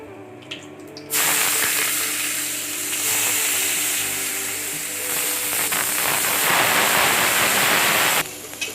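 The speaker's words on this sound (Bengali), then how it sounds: "এবার আমি পেঁয়াজটা দেব" Finely chopped onion drops into a hot pan of oil with curry leaves, and a sudden loud, rough sizzle flares and holds for about seven seconds before it cuts off.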